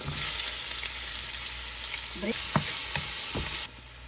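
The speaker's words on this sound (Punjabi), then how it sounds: "ਇਸੇ ਘਿਓ ਦੇ ਵਿੱਚ ਆਪਾਂ ਜੀਰਾ ਲੌਂਗ ਲਸਣ ਲੋ ਜੀ ਥੋੜੀ ਜਿਹੀ ਗਰਮ ਕਰਕੇ" Cumin seeds, cloves and garlic sizzling in hot ghee for an Indian sabzi, a steady close hiss of frying with a few stirring scrapes before the sizzle drops away near the end.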